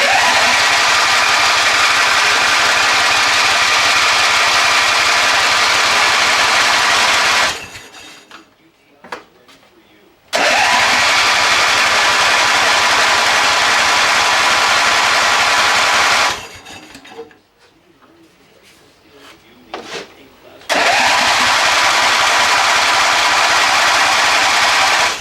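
A Briggs & Stratton small engine, choked with a separate throttle, runs with a loud, harsh, steady clatter close by, cuts out twice into near quiet for a few seconds each time, then bursts back to full running.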